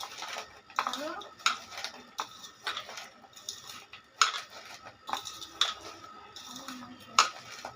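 Chopped onions being stirred in a pan for a taki fish and radish bharta, with repeated clattering scrapes and taps of a utensil against the metal pan at an uneven rhythm, close and moderately loud, with brief speech in between.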